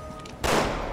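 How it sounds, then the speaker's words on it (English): Gunfire from the Resident Evil 6 video game, with a loud blast about midway followed by a dense, sustained burst of shots that stays close and loud to the end. "Actually, no, but I was shooting the door"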